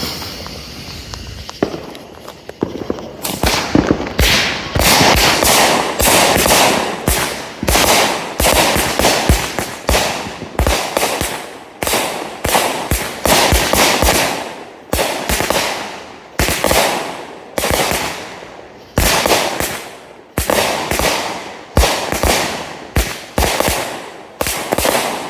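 Two Grand Patriot Midnight Rider 25-shot 200-gram firework cakes fire in rapid succession, a long run of loud, sharp bursts in quick rhythmic bursts with brief gaps, close by and outdoors.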